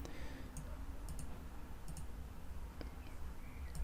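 A few faint computer mouse clicks, spaced irregularly over a steady background hum while a file is imported in ZW3D CAD software.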